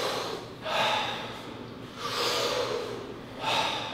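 Deep Wim Hof-style breaths are drawn in and out through the mouth, three strong airy rushes in a steady rhythm, close and with no talk.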